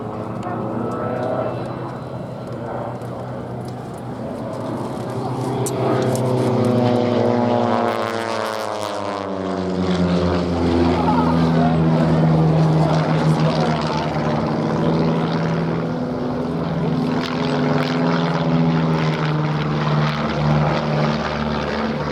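Two Pitts S-1D aerobatic biplanes with 180-horsepower Lycoming IO-360 piston engines fly a crossing pass at the Duxford airshow, a loud sustained propeller drone rising and falling in pitch as they approach and pass, with a commentator's voice faintly underneath.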